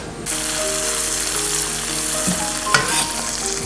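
Pork belly stir-fried in a wok with tofu knots, scallions, salt and dried chillies gives a loud, continuous sizzle, with a couple of spatula scrapes and clinks near the end.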